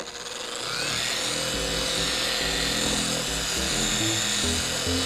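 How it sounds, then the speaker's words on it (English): Torq dual-action polisher on speed setting 1 working over a carbon fiber part, spinning up from quiet into a steady, loud mechanical whir with slight wobbling variations, no voices over it. "So I'm going to turn my torque on. I'm going to spread it on the surface on speed setting 1."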